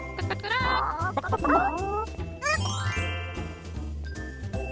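Animated farm hens cluck in a couple of busy bursts early on, followed by a tinkling jingle, all set over a lively children's music bed.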